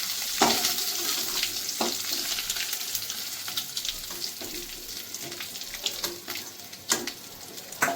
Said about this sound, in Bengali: চিংড়ি মাছটা আমার ভালো করে ভাজা হয়ে গেছে।